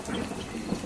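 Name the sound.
heavy rain with thunder, cartoon sound effect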